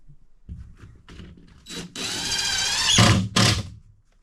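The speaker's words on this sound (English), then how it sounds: "And then I can run my screws." Cordless power drill driving a screw into drywall in an off-grid tiny house, short rising whine of the motor with a brief stop and a second burst, close and loud after light handling knocks.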